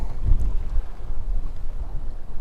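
Wind buffeting a fishing boat on windy Lake Sakakawea, a low rumbling gusty roar pressing on the microphone in uneven pulses, close and steady throughout.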